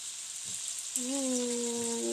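Tofu sisig sizzles steadily in a hot pan, a continuous crackling fry close by, with a tonal hum joining partway through and holding to the end.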